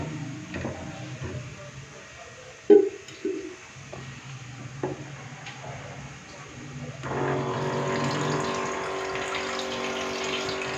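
Water runs steadily into a jug, a continuous rushing that starts partway through after some clinks and kitchen handling noises.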